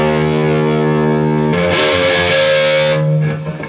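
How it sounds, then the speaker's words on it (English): Distorted electric guitar, low E hit with the whammy bar as the strings scrape against a stage monitor, a sustained buzzing chord giving way to a harsh, swirling scrape, loud with no talking. "scrape strings on monitor"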